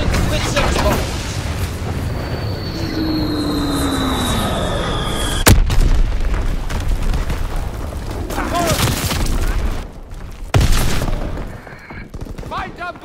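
Bombs drop and explode in the World War II video game Call of Duty WWII, with a falling whistle followed by heavy booms and scattered blasts over a constant rumble of combat.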